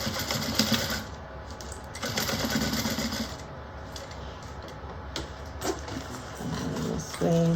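A sewing machine sews a lining shut on a JeroniMini project in short, uneven bursts of rapid ticking stitches, close and moderately loud, with pauses and fabric handling between runs.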